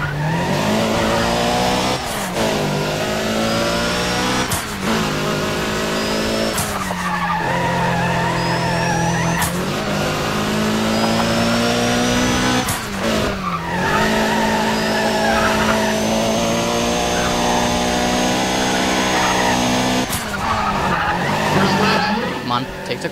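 Acura RSX race car in the video game Need for Speed ProStreet, its engine roaring loudly and continuously with repeated sharp tire squeals and skids through corners and abrupt gear-shift drops.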